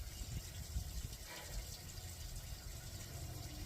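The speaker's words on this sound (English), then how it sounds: "the rain barrel is almost done draining out" Water drains steadily out of a 55-gallon rain barrel beside a chicken coop, making a continuous low gushing, splashing flow that holds at an even level throughout.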